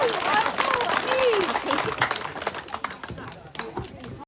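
Guests at a customary wedding ceremony between an African groom and a Filipina bride clapping in a dense burst that fades into scattered claps, with voices talking and calling out over it.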